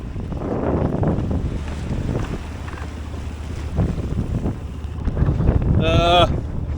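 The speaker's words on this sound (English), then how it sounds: "Wind's picked back up a little bit" Steady wind gusts across the microphone over open sea out of sight of land and a moving boat off the English south coast, with a voice speaking under the rushing noise.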